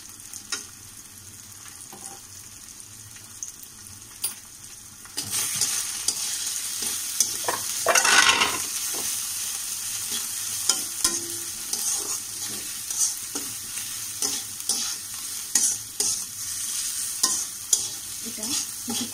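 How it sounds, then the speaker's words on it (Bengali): Bitter gourd and fish belly with salt and turmeric being sautéed in a pan. Quiet at first, the sizzle then swells into a louder, steady fry with repeated close stirring and scraping strokes and a brief burst of hissing. "এটা কিছুক্ষণ কষাবো"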